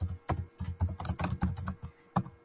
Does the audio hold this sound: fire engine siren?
no